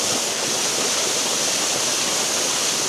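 Water pours over Blairskaith Linn waterfall in a steady, dense rush, close and loud, with no pauses or voices across the whole stretch.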